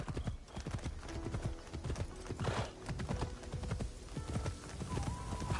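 Horse hooves clip-clop steadily while riding in Assassin's Creed Shadows on PS5, with dense rhythmic hoof beats and an occasional whinny over busy game ambience.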